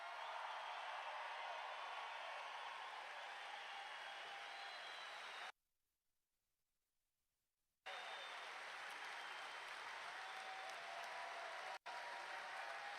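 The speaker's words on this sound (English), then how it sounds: "Let's give them all a round of applause." An audience applauds veterans with dense, sustained clapping that breaks off for about two seconds and then resumes, steady and fairly even throughout.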